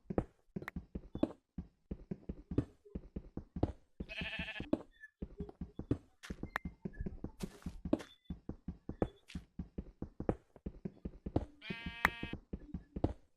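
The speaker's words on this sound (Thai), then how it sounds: "แกะที่ไหนมันร้องวะ" Sheep bleating in the Minecraft video game, two short bursts heard amid a steady patter of footsteps and digging clicks, moderately loud.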